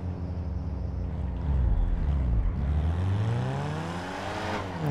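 Golf car racing in a video game, engine revving up and down through gears with rising and falling whine, loud and close, a brief tire squeal as it corners.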